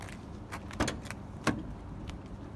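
Van doors swing shut with two sharp latching thuds a little apart, each ending in a click, then a fainter knock, against low outdoor rumble.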